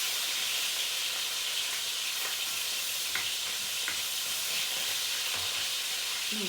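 Beef sizzles while browning in a pan, giving a steady, close hiss and crackle with a few faint clicks and stirring taps and no voices.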